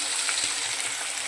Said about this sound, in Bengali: মাছ ভাজা চলছে আমার।